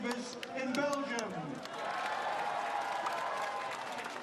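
Crowd applause and cheering at a men's field hockey match between India and Belgium at the Breda Hockey and Bandy Club, a broad, steady wash of clapping heard at a distance under a commentator's voice.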